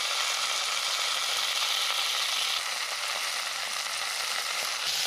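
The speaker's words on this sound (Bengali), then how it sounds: "রসুনটাকে এখন হালকা করে ভাজা করে এর মধ্যে দিয়ে দিলাম 1 চামচ মতো 5 ফোড়ন আর 2টো শুকনো লঙ্কা।" Garlic, panch phoron and two dried red chillies frying in oil in a pan, a steady loud broadband sizzle running without break for the whole span, with no talk.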